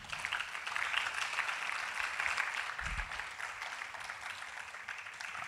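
Church congregation applauding together, a dense, steady wash of many hands clapping at even loudness throughout, with no pauses.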